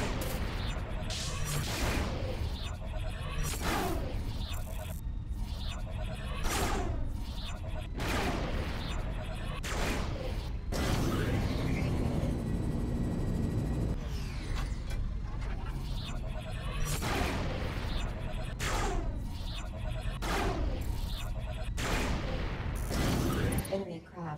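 Ship guns in the space game Rebel Galaxy blasting floating containers: a steady barrage of booming shots and bursts, loud and continuous, with a voice speaking over parts of it.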